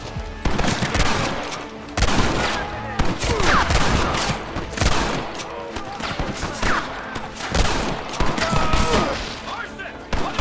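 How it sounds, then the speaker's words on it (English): Gatling gun fire in the Western game Red Dead Redemption, dense sustained bursts of rapid shots pounding almost continuously, with shouted voices and other gunfire mixed in. "You man the Gatling gun"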